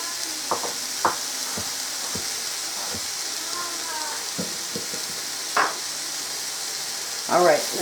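Bratwurst and potatoes fry in a pot, giving a steady broadband sizzle throughout with occasional stirring clatters and scrapes layered on top, close and moderately loud.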